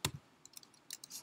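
A few quiet clicks and soft key taps on a computer keyboard, faint and sparse with short gaps between strokes.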